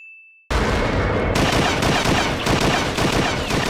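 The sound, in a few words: cannon fire in One Piece anime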